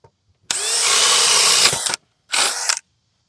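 A DeWalt DCD1007 cordless drill with a 1-inch Diablo spade bit revs up and bores steadily for about a second and a half, stops, then a second shorter burst follows; loud and close, no talking.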